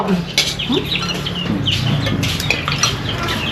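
Chickens cluck repeatedly at close range, a busy, uneven run of calls that lasts the full few seconds.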